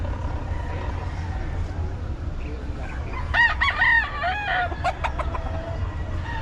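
Several roosters from Nueva Ecija crow in overlapping calls, with some clucking mixed in, over a constant low background rumble. The crowing comes in a cluster midway through and is fairly close by.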